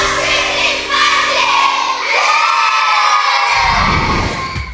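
Children on a school trip shout and cheer together, making a loud, sustained crowd roar that fades slightly at the end.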